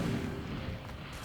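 The Incendio fire spell in a video game bursts as a dense, low, rumbling whoosh of flame, loud and close, sustained for about a second with no talk.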